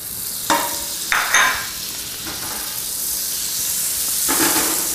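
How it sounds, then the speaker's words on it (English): Olive oil and butter sizzle in a frying pan before potatoes go in, a steady soft hiss broken by a few sharp crackles and spatters, close by with no talking. "we're going to start by adding some olive oil and a little bit of butter to this pan"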